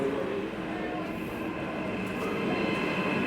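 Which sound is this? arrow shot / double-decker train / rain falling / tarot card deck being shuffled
double-decker train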